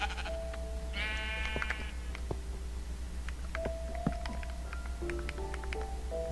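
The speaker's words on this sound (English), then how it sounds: "Let's see, ooh, sheep." Sheep bleat in the survival-mode video game Minecraft, one clear bleat standing out above a steady hum of game ambience, with scattered soft clicks and tones around it.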